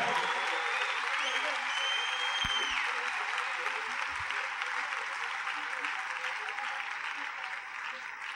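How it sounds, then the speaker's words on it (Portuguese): A church congregation gives a long, loud round of applause for Reverend Bill Winston. The clapping is dense and steady throughout and fades slightly near the end. "uma salva de palmas ao nosso reverendo Bill Winston"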